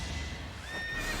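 Horse whinnying in the video game Fire Emblem: Three Houses, one rising, wavering neigh near the end, moderately loud over a faint background with no speech.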